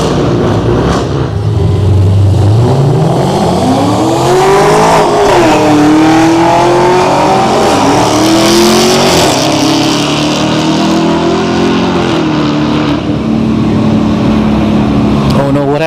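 Drag racing cars, a Camaro and a Hellcat, launch and accelerate hard at Orlando Speed World on a Friday night, the loud engine roar climbing in pitch through gear changes for about fifteen seconds, with a voice talking over it.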